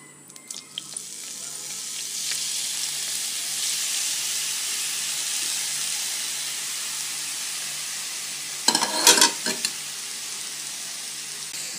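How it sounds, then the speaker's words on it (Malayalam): Grated carrots go into a hot pan and fry for carrot halwa, making a steady close hiss and sizzle that swells after they drop in, with a short burst of clattering stirring near the end and no speech. "ഇനി ഇതിലേക്ക് നമ്മൾ നേരത്തെ എടുത്തു വച്ചിരുന്ന ക്യാരറ്റ് ഇട്ട് കൊടുക്കുക"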